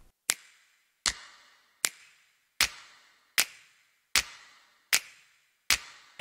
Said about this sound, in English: Then we add the snap and the sleigh bells